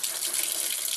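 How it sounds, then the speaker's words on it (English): A repaired Moen single-handle faucet runs hot water into a sink, a steady, close hiss of flowing water with no talking over it. "Okay, we have the water on. There's our hot."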